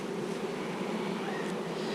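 Honey bees buzzing steadily at a hive, a continuous close drone with a faint high whine passing through, no voices.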